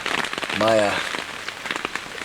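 Steady rain patters on a hunting blind shelter in the Temagami woods, a dense close wash of drops, briefly overlaid by a mid-clip tonal hum or voice.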